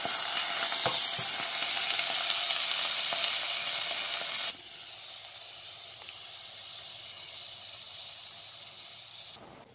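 Spaghetti sauce with mushrooms sizzles loudly in a pan as it is stirred, a steady bright hiss that drops slightly in level midway and continues alone until it cuts off.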